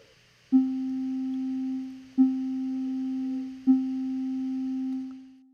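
Three identical synth notes from the VCV Rack software modular synthesizer, each with a sharp attack and a fast drop to a low steady hum, evenly spaced and played alone.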